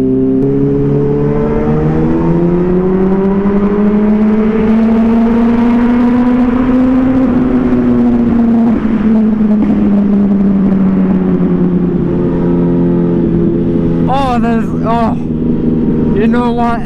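A Yamaha motorcycle engine revs up and down close by, its throaty pitch rising to a peak and then easing off, with a few sharper bursts of throttle near the end.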